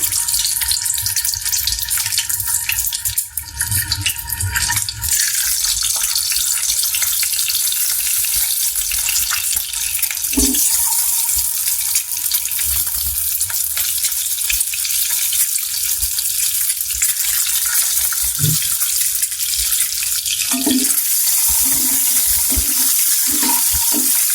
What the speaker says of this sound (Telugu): ఎగ్స్ మంచిగా ఫ్రై చేసుకోవాలండి